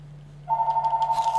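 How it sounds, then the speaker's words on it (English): A telephone rings inside the console game ARK Survival Evolved, a steady electronic trilling pulse that starts suddenly and repeats evenly over a low background hum. "Oh my god, the phone is ringing!"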